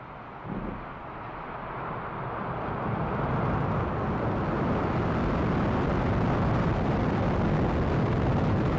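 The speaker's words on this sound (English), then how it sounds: "Ignition, liftoff." A SpaceX Falcon 9 rocket ignites and lifts off, a broad, distant roar swelling steadily and then holding as a dense, continuous rumble.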